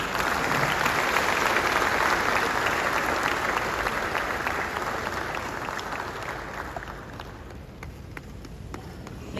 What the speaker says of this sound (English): Ladies and gentlemen, another round of applause for His Excellency